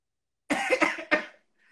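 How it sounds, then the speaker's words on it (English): Three close coughs in quick succession from one person, fairly loud and near, each sharp and breathy, followed by a brief faint hiss. "These days, every time I cough"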